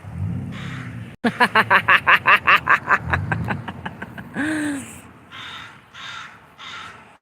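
A magpie calling outdoors in Washington, a loud close burst of rapid harsh chattering notes followed by a few shorter raspy calls, with no talking.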